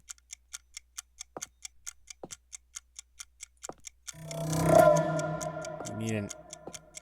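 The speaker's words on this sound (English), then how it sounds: "I don't like the sound of that ticking," In the video game Cabernet, a clock ticks steadily and sharply at an even pace. Partway through, a voice speaks over the ticking.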